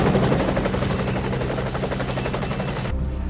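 A military helicopter flies through an action film scene, its rotor throbbing loud and steady with a dense, rhythmic chop before cutting abruptly to a low rumble near the end.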